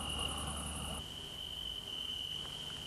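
A small cricket chirps in a steady, high continuous trill that carries on throughout, close and clear over a faint night background, with no one speaking.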